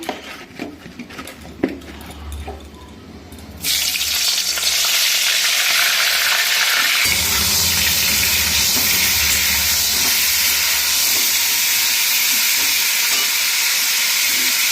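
Light clatter at first, then a loud, steady sizzle suddenly erupts and hisses on continuously as cauliflower fries in hot oil, close by.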